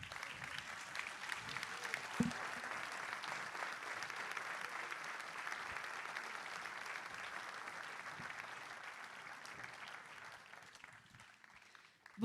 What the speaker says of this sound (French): Je vous demande d'accueillir et d'applaudir très fort Manon Aubry.